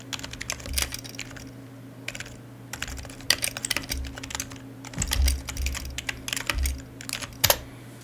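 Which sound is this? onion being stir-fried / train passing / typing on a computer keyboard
typing on a computer keyboard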